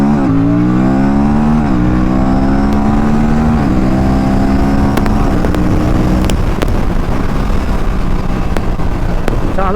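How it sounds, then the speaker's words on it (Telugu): An Aprilia RS457 motorcycle pulls hard from first gear, its engine note climbing loud and close with two or three quick, clipped upshifts, then settling into a rough, wind-buffeted drone at speed. "క్విక్ షిఫ్ట్ ఫస్ట్ గేర్ నుంచి చూపిస్తాను."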